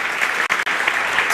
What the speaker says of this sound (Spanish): vamos a darles un aplauso a los que nos están oyendo